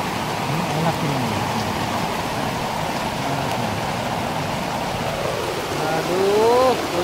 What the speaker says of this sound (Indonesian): Aduh, hujan deras guys.